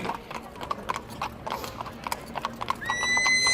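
Horse hooves clip-clop in a quick, steady galloping rhythm, then a loud, high whinny rises near the end, close and clear.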